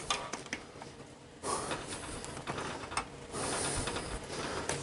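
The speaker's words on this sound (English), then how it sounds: "while I get these lug bolts started" Lug bolts being turned into a Harley-Davidson Knucklehead wheel give off close, repeated metallic ratcheting and clicking in uneven bursts, over a steady hiss of shop noise.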